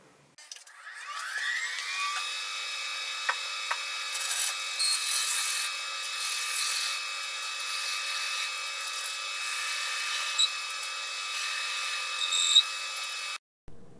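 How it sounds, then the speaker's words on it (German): Lathe-driven extra long drill bit boring lengthwise through a wet ginkgo wood stem, a rising whine that settles into a steady high-pitched drone with scraping texture and a few brief knocks, then stops abruptly. "Um den Stiel der Länge nach zu bohren, verwende ich einen hohlen Mitnehmer und einen passenden extra langen Bohrer."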